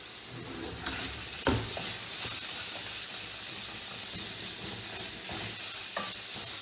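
Seasoned food, with onion powder among the seasonings, sizzles steadily in a frying pan as it is stirred, with a constant hiss and a few sharper scraping clatters, heard alone without talk.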